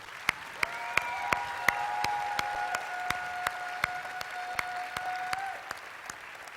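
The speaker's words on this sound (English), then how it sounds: "Give yourselves a big round of applause." Students applaud themselves in a room, with sharp, regularly spaced individual claps standing out over a softer bed of clapping and a faint sustained tone beneath.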